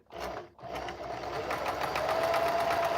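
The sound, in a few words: sewing machine stitching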